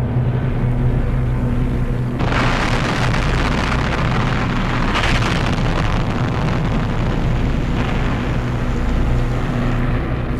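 A WWII Grand Slam bomb explodes, heard as a loud, sustained, broad rumbling roar that swells in waves, heavy and dense throughout, with no voices.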